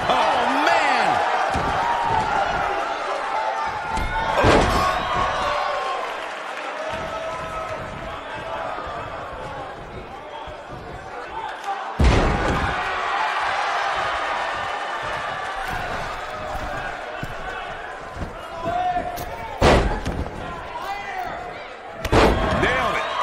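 A packed arena crowd roars continuously through a WWE 2K19 video game wrestling match, loud and steady, punctuated by heavy slams and thuds from the ring, with a commentator's voice talking over it.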